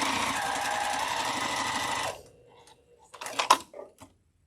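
Sewing machine piecing a row of a quilt block: a steady, close motor buzz lasting about two seconds stops abruptly, followed by a few quiet clicks and handling taps.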